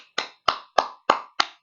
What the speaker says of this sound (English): So please, guys, clap for him.